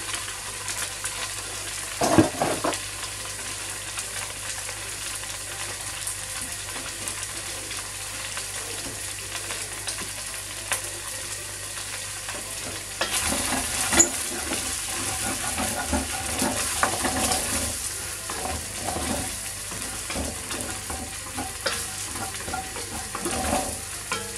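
Onions and mushrooms fry in a pan for a steak cobbler filling, giving a steady sizzle with constant stirring scrapes, a sharp clatter early on and livelier stirring through the second half.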